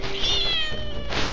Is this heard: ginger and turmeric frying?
no